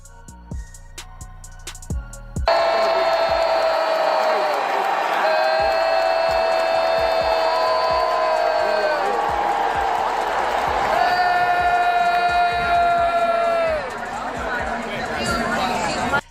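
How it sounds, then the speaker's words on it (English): Basketball arena crowd reacting as Sophie Cunningham checks into the game, a loud sustained roar of crowd noise with whoops and shouts, steady for most of the clip, with a nearby voice and some chatter. "Sophie Cunningham getting booed as she checks in to the game."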